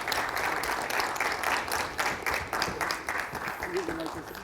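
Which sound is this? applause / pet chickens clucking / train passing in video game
applause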